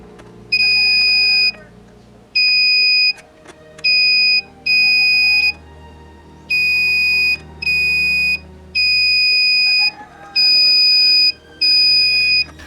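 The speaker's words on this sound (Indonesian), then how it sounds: "Uji koneksi saklar mode playback record dengan mode buzzer pada multimeter." A multimeter's continuity buzzer beeps in a series of sharp, steady high-pitched tones of about a second each, on and off, while probes test the playback and record switch contacts of a Polytron VCD 7205 player.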